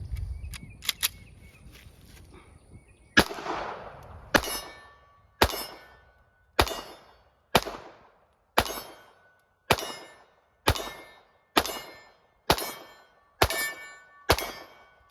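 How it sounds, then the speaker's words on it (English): A Shadow Systems CR920P pistol fires a steady string of about a dozen sharp, evenly spaced shots, each a loud crack with a quick ringing decay, following some quieter handling noise at the start. "we're going to try it with me shooting"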